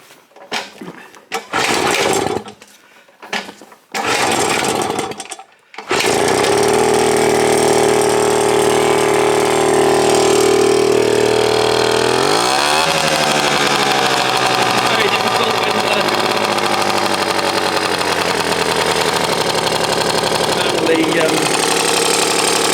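A 1970s Puch Magnum X 50cc kids' dirt bike scrambler is kicked over in several short bursts, then catches and runs loud and close with a buzzing idle that rises and settles as the throttle changes.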